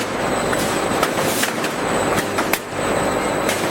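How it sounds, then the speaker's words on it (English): Automated factory packing machinery wraps loaves of bread in clear plastic bags, giving a steady, loud mechanical rumble and hiss with a few sharp clicks and clacks, and no talking. "Automated machines wrap the bread in protective,"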